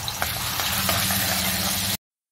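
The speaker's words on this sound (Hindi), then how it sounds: "1 तेज़पत्ता, 1 बड़ी इलायची। इन सबको थोड़ा सा मैं फ्राई करूंगी।" Bay leaf and black cardamom fry in hot oil in a pan for chicken korma, giving a steady close sizzle with a few small pops and crackles, alone for about two seconds before cutting to silence.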